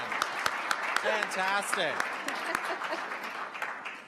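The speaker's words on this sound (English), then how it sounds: "Let's clap for real people" Audience applause at a corporate speaking event, steady clapping throughout with a voice speaking over it near the start.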